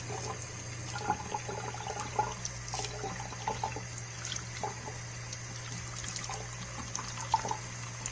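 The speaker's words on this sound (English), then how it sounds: "if you hold the water down so that it fills up like this" Tap water runs steadily into a filling basin as zucchini flowers are gently rinsed, a continuous close splashing trickle with small irregular bursts throughout and no talking.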